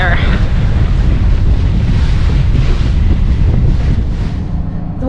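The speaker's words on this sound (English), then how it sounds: "The winds are blowing about 20 knots, 25 knots. So that's why it's so windy" Strong wind gusts across a microphone aboard a Nordhavn 55 motor yacht in Alaska, blowing at 20 to 25 knots. A loud, steady roar fills the whole stretch with low rumbling buffeting and no pauses.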